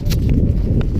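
A horse hauls a captured steer during a cattle roundup, its hooves thudding and clopping at a steady pace beneath a heavy, continuous low rumble.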